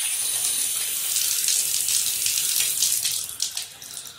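Water runs steadily from a freshly repaired garden faucet, a continuous hissing splash close by that eases slightly toward the end, with no voices.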